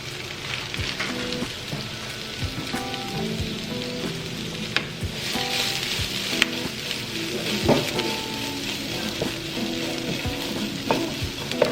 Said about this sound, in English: go ahead and add this cabbage and start cooking it